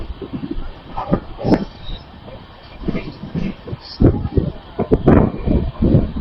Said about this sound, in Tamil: ஹைதராபாத் டெக்கனம்பள்ளி திருவனந்தபுரம் போகக்கூடிய ஸ்பெஷல் வண்டிங்க.